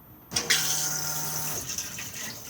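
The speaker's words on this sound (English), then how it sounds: "push to flush" A Thetford cassette toilet flushing inside an Adria Alpina caravan: a sudden close rush of water that starts sharply and runs steadily for about two seconds, alone.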